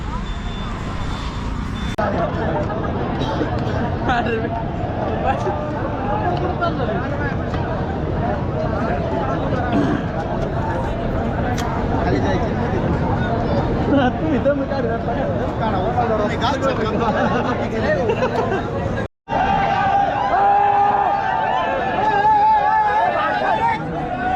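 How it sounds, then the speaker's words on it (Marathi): Crowd of devotees standing in a long queue for darshan at a hilltop temple during an annual festival; continuous dense babble of many voices, loud and close, with no single speaker standing out. "हे सगळे दर्शनासाठी रांगेत उभे राहिलेले आहेत."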